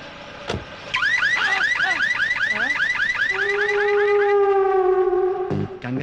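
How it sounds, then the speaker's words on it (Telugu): A car alarm on a car's central locking system sounding close and loud, a rapid repeating warble of rising chirps, then a long steady two-tone blare before cutting off abruptly with a short blip. "ఈ కారుకి సెంట్రల్ లాకింగ్ సిస్టమ్ ఉంది."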